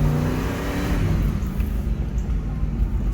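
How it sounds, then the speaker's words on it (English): An old truck's engine runs close by, a steady rough mid-range rumble with slight swells, heard alone for a few seconds. "the engine still runs good"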